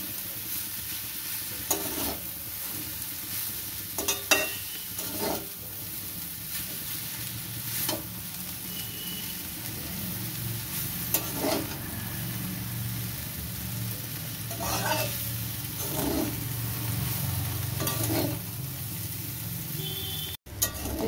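Egg chow mein noodles sizzle in a hot pan while being stirred, with scraping clatters of a utensil breaking through the steady frying hiss.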